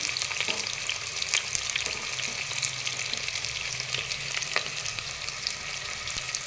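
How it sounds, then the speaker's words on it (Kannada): About two sliced onions fry in hot ghee for vegetable pulao, a loud continuous sizzle with scattered crackles and light scraping as they are stirred. "ಈರುಳ್ಳಿ ಸ್ವಲ್ಪ ಬ್ರೌನ್ ಕಲರ್ ಬರೋವರೆಗೂ ಫ್ರೈ ಆಗಲಿ."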